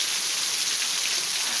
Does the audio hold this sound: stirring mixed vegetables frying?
no